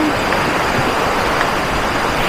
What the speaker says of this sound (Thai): น้ำตกสวยจัง